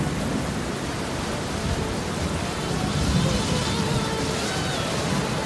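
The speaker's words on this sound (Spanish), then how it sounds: "Llueve, llueve, llueve." Steady rain falls in Bogotá, Colombia, a dense, even wash of broadband hiss that holds at a constant moderate level throughout, with no distinct drops or voices standing out.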